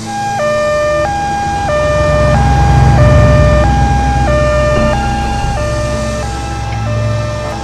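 A loud ambulance siren wails in a steady two-tone hi-lo pattern, close by and alone, with low vehicle engine rumble underneath.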